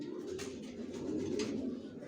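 Young racer pigeons coo in a low, continuous murmur at close range for a couple of seconds, with no voices.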